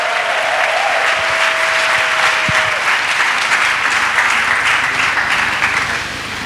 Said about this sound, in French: Acclamation à Jésus de Nazareth.